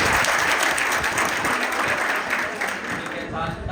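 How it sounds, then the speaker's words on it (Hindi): Audience at a school anti-drug talk breaking into loud sustained applause, dense clapping from many hands that stays strong and then begins to thin toward the end. "ताली नहीं बजाओ, आगे सुन लो।"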